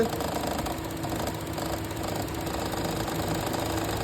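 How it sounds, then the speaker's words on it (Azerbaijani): Steady mechanical rattling from an idling car engine, a fast continuous clatter at a constant, moderate level throughout. "Kondisioner barəsində problem olanda bu cür səs gələndə hansısa bir rolik sisteminin boş olmasına əlaqədar olur"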